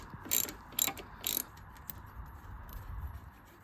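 A ratchet clicks in short bursts while a T27 Torx bit backs out a screw at the top of a Harley-Davidson Softail M8 oil cooler, three quick clusters of close mechanical ticking followed by faint handling noise.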